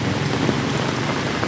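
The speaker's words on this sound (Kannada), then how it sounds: "ಭರ್ಜರಿ ಮಳೆ" Heavy downpour in Bangalore, a dense, constant hiss of rain pattering on surfaces, loud and unbroken with no voices.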